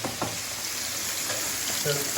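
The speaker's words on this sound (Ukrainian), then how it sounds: "Поки у нас все все підсмажується" Meat sizzles and crackles in a hot pan, with a soft clink of a utensil stirring near the end.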